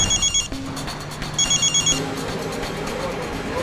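A telephone rings in a police station office, two bursts of repeated electronic trills separated by a short pause, fairly loud and close, over a low background hum.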